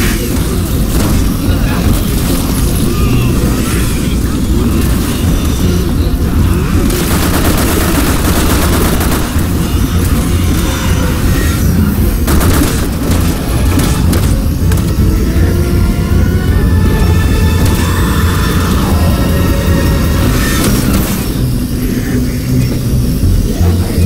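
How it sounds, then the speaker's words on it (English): Video game gunfire in Sherry's chapter 4, a dense, continuous barrage of shots and automatic fire running the whole time, loud and busy, with voices talking underneath. "Watch out! Someone's shooting at us!"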